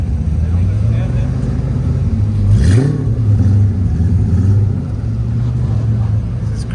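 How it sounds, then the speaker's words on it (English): Cars rolling in at the Goodwood house during the Festival of Speed, a loud continuous low engine rumble with a brief rising rev in the middle, close by and steady throughout. "Cars are just rolling in."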